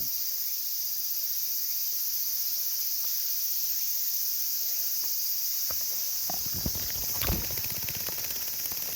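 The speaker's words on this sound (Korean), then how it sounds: "여기 유지매미가 엄청 많네" A dense, steady drone of large brown cicadas fills the air on Cheonmasan mountain, South Korea, in August, with a few faint rustles and taps close by near the end.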